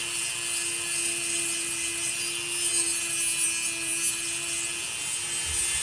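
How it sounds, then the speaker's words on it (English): A Dremel rotary tool grinds the teeth of a demolition chainsaw chain, giving a steady high-pitched whine with a constant buzzing drone that holds without a break, close up and unbroken. "I'll lift up on the Dremel a little bit, kind of cut the edge there"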